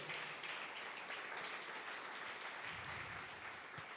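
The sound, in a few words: applause for the Lord in church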